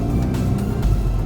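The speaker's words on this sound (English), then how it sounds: "I hate speed bumps." A car with very stiff suspension passes over a speed bump, giving a loud, close thump and rumble in the cabin above continuous road and engine noise.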